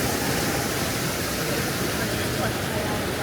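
Water rushing along the Big Thunder Mountain coaster at a Disney park: a continuous, even, close roar of flowing water with no break, and a crowd murmuring faintly underneath.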